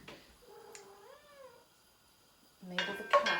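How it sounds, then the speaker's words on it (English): A cat begging for a treat meows in a rising, wavering cry in a home kitchen where butter is melting, followed by louder clattering of pots and utensils near the end. "the cat is after a treat, but it is not treat time"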